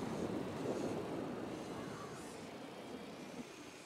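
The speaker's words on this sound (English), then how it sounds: "We'll send in a drone and record the meet." A surveillance drone deployed in the Ghost Recon Wildlands video game gives a steady, airy whirring and rushing drone that holds throughout and fades slightly toward the end.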